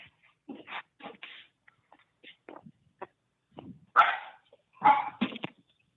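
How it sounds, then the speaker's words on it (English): Several dogs barking in bursts, scattered and uneven, some louder clusters near the end, with quiet gaps between. "I just had to shut my dogs up."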